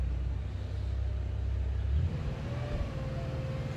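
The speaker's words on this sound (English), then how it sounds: "maybe I'll wait for this Porsche to stop revving its tiny little engine" A Porsche engine rumbles low and nearby, with a slight rise in revs partway through and a faint whine following, steady and unbroken without any talk.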